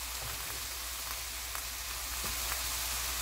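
Beef and oyster mushrooms sizzle steadily in a hot pan while being stir-fried, a continuous crackling hiss with faint scattered pops and no talking.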